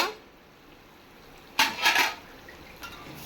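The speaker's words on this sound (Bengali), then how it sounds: "বন্ধুরা এবার ঢাকা খুলে দেখে নেব" A metal lid lifted off a cooking pot of potol dorma gravy in a home kitchen, a short clatter and scrape of metal on metal after a quiet pause, close and brief, with a smaller clink a moment later.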